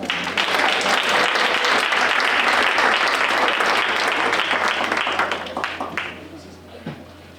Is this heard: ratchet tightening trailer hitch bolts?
no